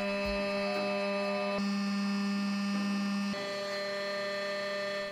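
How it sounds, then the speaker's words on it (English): Desktop CNC machine cutting aluminium, a loud steady whine with strong pitched tones that holds throughout and shifts character abruptly a couple of times as the cut changes. "Seems to be cutting quite well, but on first impressions it does seem louder than the other two machines."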